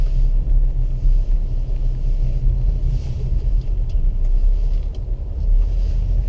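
A car on the ICAR race track slows hard into the pits, heard as a steady low engine and road rumble from inside the cabin, loud and even throughout.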